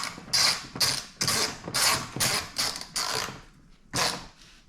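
Ratchet tightening bolts on a Suzuki King Quad 750 ATV during a CV drive belt change, seven or eight close, loud bursts of rapid clicking, evenly spaced with short pauses between strokes.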